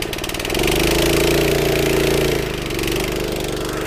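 A Davey firefighting pump's small petrol engine, mounted on a trolley, runs loudly up close with a steady buzzing drone that swells and dips slightly in pitch.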